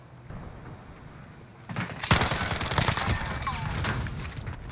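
Uzi gunfire in the video game Modern Warfare during a Search and Destroy match, a rapid rattling burst that kicks in about two seconds in and keeps going, loud and close over low game ambience, with no voices.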